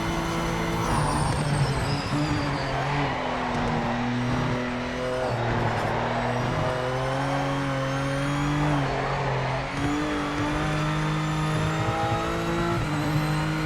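Race car in the Project Motor Racing video game, its engine droning and shifting pitch steadily while the tyres slip and squeal front and rear, loud and continuous with no talking.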